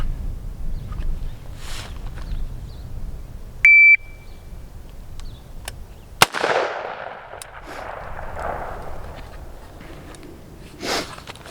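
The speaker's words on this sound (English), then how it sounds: "let's get some shots off with the ACOG" A sharp electronic timer beep precedes a single loud rifle shot fired through an ACOG scope, followed by a long echoing decay across an open range, with a fainter pop near the end.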